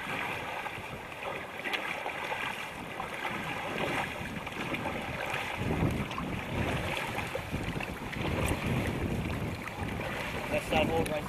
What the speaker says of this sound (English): The paddlers on the left side of the boat continue to paddle forward